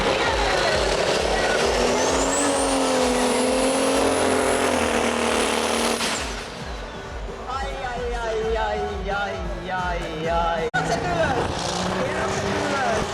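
An Ursus tractor engine at a tractor pulling event, roaring loud and steady with pitch rising and holding high, then dropping and labouring in a rougher, wavering tone, with people talking over it.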